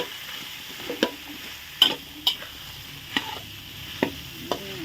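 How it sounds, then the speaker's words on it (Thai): Thai eggplant being stir-fried with curry paste in a hot pan, a steady sizzle broken by a series of sharp scraping knocks of a spatula stirring, roughly one every half second to second, close by with no talking. "ผัดมะเขือก่อน"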